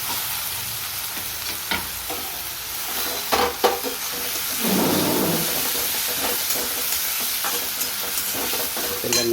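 Dried garlic, green chillies, ginger and fresh fenugreek frying in hot oil for muthiya, a continuous close sizzle with scattered clinks and stirring scrapes and a brief surge of hiss midway.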